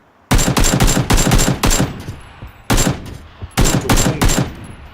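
Automatic gunfire in a battle royale video game comes in loud, close, rapid bursts: a long stuttering volley, a pause, then two more quick rattling strings of shots.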